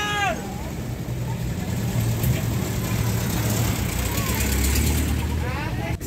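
Jeepney engines idling at a jeep terminal in Baguio City, a low steady rumble with horn-like tones at the start and end, heard close beneath someone talking.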